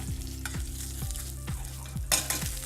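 Steak searing in a very hot pan gives a continuous close sizzle, with a sharper crackling flare near the end.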